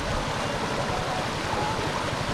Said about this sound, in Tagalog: Malakas yung alon dito guys oh.